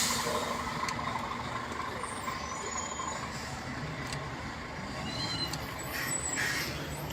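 Heavy coal lorries, each towing two side-tipper trailers, rumble past steadily in a queue, with a constant low engine drone, a hiss of air brakes and some brief higher whines, close and continuous.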